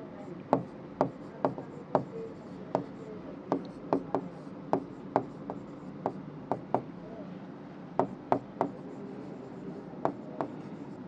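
A pen writes an accounting formula on paper, with irregular small taps and scratches as strokes land, close and quiet against a faint room background.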